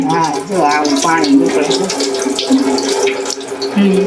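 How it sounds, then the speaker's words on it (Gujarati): Bitter gourds being rubbed and washed by hand under a running tap, a loud continuous gush of water splashing into a sink with shifting tones as the vegetables are handled. "જો અહીંયા ચોળી ચોળીને કારેલા ધોઈ નાખવાના આવે"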